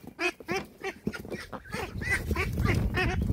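A female duck calls in a run of raspy, repeated quacks, about eight evenly spaced honking notes close to the microphone, with a low rumble of background noise rising toward the end.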